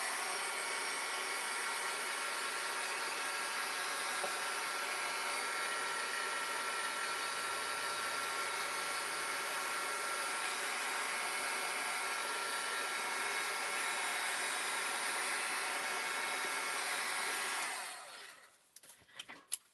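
A heat gun blowing steadily at close range for a long stretch, a loud even airy whoosh that cuts off near the end, followed by a few faint handling clicks.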